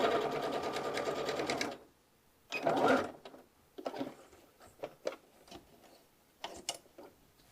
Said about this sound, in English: I'm going to set this into the machine, and I'm going to stitch to this point here where my pin is